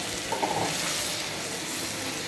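Broth is poured onto beef liver cooking in a pan, giving a short splash followed by a steady hissing sizzle at moderate loudness.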